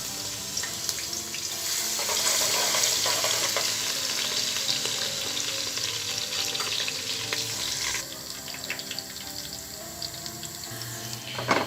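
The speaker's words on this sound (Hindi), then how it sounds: "अब हम इसके अंदर अदरक और लहसुन का पेस्ट ऐड करेंगे।" Ginger and garlic paste fries in hot oil for a chicken and potato curry: a close, steady sizzle with bubbling crackle and some stirring, continuous throughout and slightly quieter near the end.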